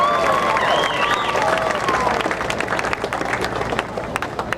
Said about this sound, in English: So one more round of applause for Mr.